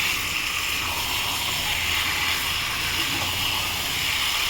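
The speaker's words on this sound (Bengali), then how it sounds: "এবার চিকেনের টুকরোগুলো আমি দিয়ে দেবো, দিয়ে দিয়ে নাড়াচাড়া করবো, কষবো আর কি" Chicken pieces frying in a pan with tomato while being stirred: a continuous broad sizzling hiss, steady and fairly loud throughout.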